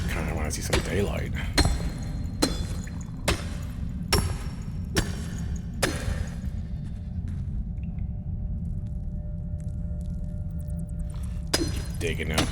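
Rhythmic hammer strikes digging through earth in the video game Enshrouded, a series of sharp thuds repeating at an even pace, then pausing before two more hits, over a low ambient rumble.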